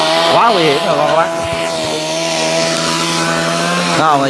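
Loud chainsaw close up, high in a tree, revving high then settling into a steady drone cutting through a tree branch, with pitch swings at the start and end.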